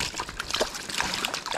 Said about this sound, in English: Wet the hand in the water.